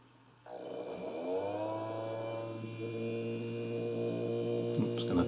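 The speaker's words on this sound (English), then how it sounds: "Let's get the motor going." A small electric motor on a Deltang model receiver starts up and runs steadily on a tabletop, a constant whirring hum with a faint rising tone, close and unbroken, no voices.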